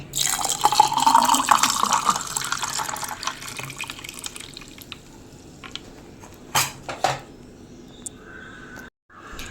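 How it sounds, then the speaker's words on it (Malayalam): Lemon juice is poured over ice cubes into a glass, a liquid splashing pour that is strongest at first, then thins to trickles and drips with a few clinks before stopping. "നാരങ്ങ വെള്ളം ഒഴിച്ചു കൊടുക്കുക"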